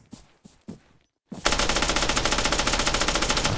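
A few sharp single shots ring out in Arma 3, then after a brief pause a sustained rapid burst of automatic gunfire rattles on continuously, loud and close.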